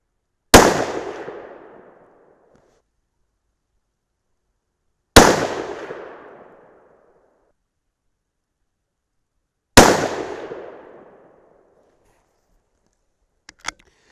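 Three loud, sharp 6mm PPC rifle shots fired at a range with 68gr Bart's Ultra bullets over N133 powder, each about five seconds apart with a decaying echo tail, followed by faint clicks.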